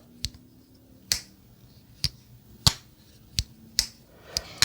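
A series of sharp, crisp clicks, about seven of them spaced irregularly, as a Civivi Fracture slip joint pocket knife snaps shut, close and quiet in a still room.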